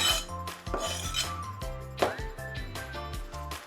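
A spoon stirs chicken, potato and leek soup in a pot, making a run of close metallic clinks and scrapes against the pot over a few seconds.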